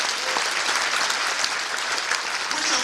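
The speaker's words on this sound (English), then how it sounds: "You should clap about that." An audience at a Martin Luther King Jr. prayer breakfast in Asheville breaks into sustained applause, a dense and steady wash of many clapping hands with no talk over it.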